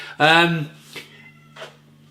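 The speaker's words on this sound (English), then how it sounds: "My cat's making all sorts of noise" A cat gives one loud, drawn-out meow up close, followed by a couple of fainter, shorter cries.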